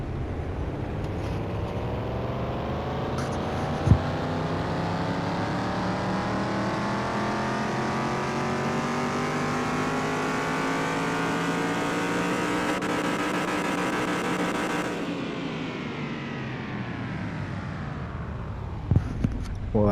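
Car engine in Car Mechanic Simulator 2021 revving on a dyno, a loud steady climb in pitch over about fifteen seconds before cutting off, then idling with a few faint clicks.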